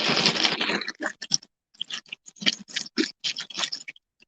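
A chip bag crinkles loudly at first, then a run of sharp, irregular crunches and crackles follows close by, spaced with brief silences, as chips are munched from the bag.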